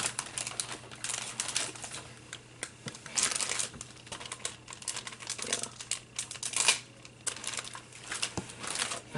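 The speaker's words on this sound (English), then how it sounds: "I hope that crinkling isn't too loud for the camera." Paper and foil crinkle and rustle in irregular bursts while a flower-garden Easter tag is crafted by hand, close by and fairly soft, with no talk.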